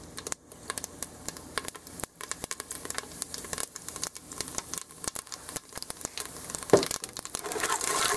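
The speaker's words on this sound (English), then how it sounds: "So it is sizzling." Hot oil crackling and sizzling in a pan while tempering for coconut tofu sevai, a steady close spatter of fine pops that grows louder toward the end, with no voices.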